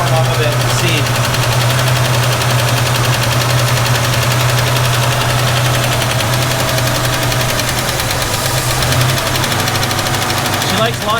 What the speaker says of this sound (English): Still one heck of a valve tick, but maybe that'll go away.